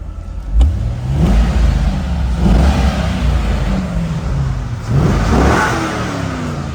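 A 2002 Chevrolet Corvette engine starts loudly and revs repeatedly, the pitch climbing and falling in several bursts, close by and alone.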